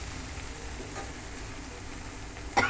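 Cumin, mustard seeds, chopped onion and green chilli fry quietly in a pan, a faint steady sizzle close by, ending in a brief sharp clink of a utensil.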